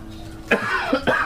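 Sick man lying in a dark room coughs two or three times in quick succession, close and fairly loud, harsh bursts over a quiet background.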